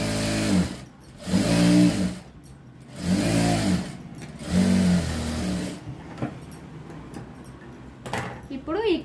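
Sewing machine stitching a blouse lining, running in four short bursts of whirring motor hum separated by pauses, then quieter handling noises afterward.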